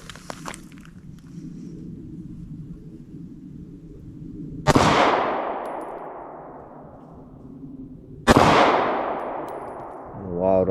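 Two loud, close gunshots from a Taurus GX4 Micro pistol fired at a target, each a sharp crack with a long ringing decay, several seconds apart, with faint movement and a brief voice at the end.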